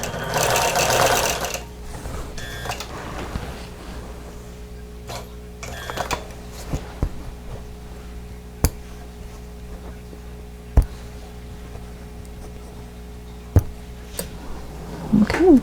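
A sewing machine quilts a star and tulip place mat block, running in a loud, continuous mechanical whir with rhythmic stitching. A few sharp clicks and knocks cut in along the way.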